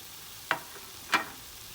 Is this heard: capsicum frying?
yes